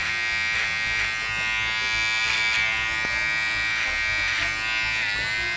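Electric hair clippers cutting a man's hair, a steady close-up mechanical buzz with a dense whine that dips and shifts slightly as the blades move through the hair, with no voices.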